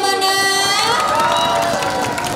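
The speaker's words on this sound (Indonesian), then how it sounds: "Sekali lagi dong tepuk tangannya mana?" A large audience at an Indonesian stage show cheers and shouts in a loud, continuous crowd roar, with children's voices rising above the sustained noise and no clear break throughout.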